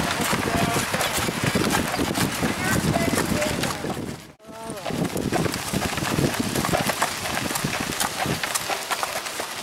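Hooves clip-clopping on pavement in Acadia amid strong wind buffeting the microphone, with people talking over it; a brief dropout in the middle.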